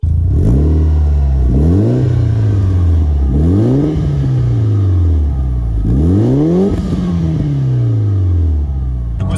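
Mitsubishi Lancer EVO 8 Stage 2 rally car pulling away, its loud engine revving hard through four rising sweeps with falling drops at each gear change, close and continuous with no talk.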